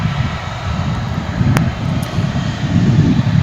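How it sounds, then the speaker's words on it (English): American Eagle regional jet arriving at Dallas Fort Worth International Airport from Stillwater, Oklahoma: a loud low engine rumble with a couple of brief high clicks, fairly close and steady, no talking. "Was American Eagle 4926 coming in from Stillwater, Oklahoma."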